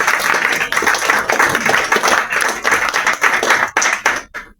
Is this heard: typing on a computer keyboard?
no